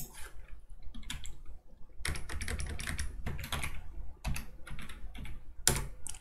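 Rapid keystrokes on a computer keyboard as code is typed, coming in uneven bursts of clicks separated by short pauses, close and fairly quiet.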